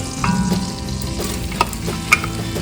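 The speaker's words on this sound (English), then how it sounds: "So to this, I am going to now put in the onions." Finely chopped onions fry in olive oil, giving a loud, steady sizzle. A couple of brief utensil clicks rise above it, with no voices.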